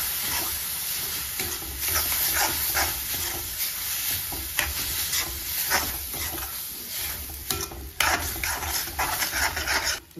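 Chopped tomato sizzles in a pan on low heat while a spoon stirs and scrapes through it, a close, steady frying hiss with repeated rubbing strokes, and no talking.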